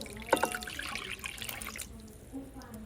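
Water is poured into a mixing bowl while making bread dough, a brief splashing pour near the start that tapers into a faint trickle and settles to quiet.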